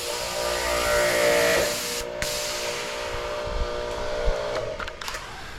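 An electric pressure washer struggling to prime, giving a steady hissing spray and motor whir with faint tonal hum, broken by a short gap and a few knocks and clunks near the end.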